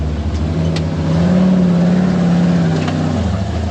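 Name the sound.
off-road vehicle motor climbing slick rock in 2-wheel drive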